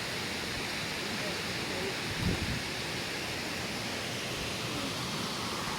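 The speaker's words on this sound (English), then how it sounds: "You mean that waterfall?" Glencar Waterfall in Ireland gives a steady, even roar of falling water heard from nearby, with a brief faint sound partway through.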